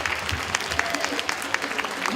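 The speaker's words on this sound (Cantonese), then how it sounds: "Please give a big clap." Audience applause at a parish Christmas dinner in 2016, a room of people clapping steadily for about two seconds with sharp individual claps standing out from the dense patter.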